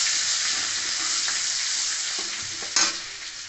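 Bay leaf, dried chilli, panch phoron and chopped garlic sizzle steadily in hot oil, a loud close frying hiss with a few stirring scrapes and a brief flare of crackle near the end.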